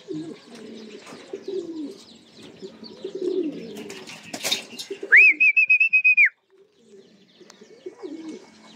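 Racing pigeons arrive at the loft, cooing in low soft throaty bursts, with a few wing flutters and a brief high whistle-like call, close by with no talk.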